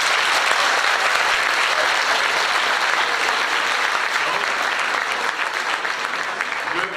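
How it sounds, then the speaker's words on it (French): A crowd applauds at a sports gala, with loud continuous clapping from many hands that holds steady and fades a little toward the end. "une belle main d'applaudissements"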